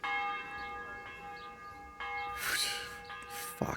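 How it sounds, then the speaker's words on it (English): A church bell tolls inside the medieval game Kingdom Come Deliverance, a bright metallic strike with a long ringing hum that sustains throughout, with louder, noisier swells near the end. "There's the bell."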